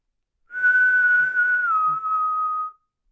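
In an old, reputedly haunted hospital on College Hill, a single clear human whistle holds one steady pitch for about two seconds, dipping slightly near the end, against near silence.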